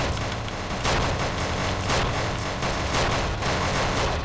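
Heavy gunfire in the video game Some Assembly Required pounds on in a dense, loud barrage of repeated shots and booming impacts, with regular sharp bursts roughly every second over a thick rumbling bed.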